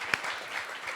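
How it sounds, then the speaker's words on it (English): Audience applause for a panel of Indigenous women screen trailblazers, a dense steady wash of many hands clapping with one sharper clap standing out near the start, moderately loud and continuous, with no talk over it. "A big round of applause for all our panel"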